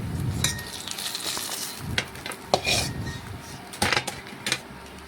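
Fried fish being lifted out of a pan of hot oil for a fish curry: faint sizzling under close metallic clinks and scrapes of a utensil against the pan, in irregular bursts.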